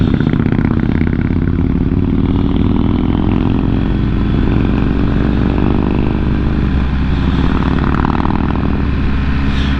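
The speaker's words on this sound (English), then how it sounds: "Hopefully you can hear me over the unsilenced bike ahead." Loud, steady roar of an unsilenced motorcycle riding just ahead on a scenic mountain skyway road, heard continuously with wind rumble and no breaks.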